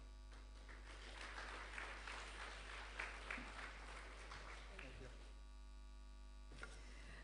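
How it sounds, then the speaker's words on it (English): An audience at a formal launch event gives a brief round of applause. The clapping is faint and distant under a strong, constant electrical hum, then fades out toward the end. "Please, let's give him another round of applause as he makes his way to his seat"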